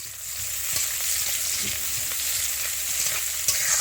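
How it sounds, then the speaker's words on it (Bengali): Chopped onion fries in mustard oil in a wok with a continuous close crackling sizzle and light stirring scrapes throughout. "এবার দিয়ে দিলাম পেঁয়াজ কুচি।"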